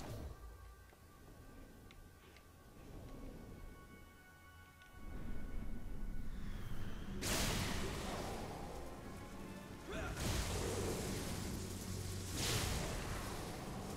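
A thunderstorm spell in Fable 3 builds from a low rumble into loud, broadband crashes of rain-like hiss and thunderous bursts, with two strong surges in the latter half.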